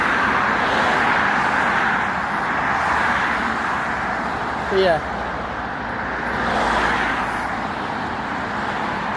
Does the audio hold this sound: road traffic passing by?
yes